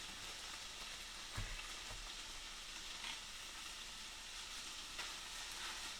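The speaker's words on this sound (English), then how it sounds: "hear it sizzling?" Hot dog chili sizzling in a pan on the stove, a faint, steady frying hiss with a few soft stirring knocks, heard alone without talk.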